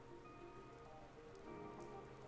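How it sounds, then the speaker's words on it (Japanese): Steady rain falls in the video game Blue Reflection, a constant even patter of drops on surfaces with no voices. "雨だ。"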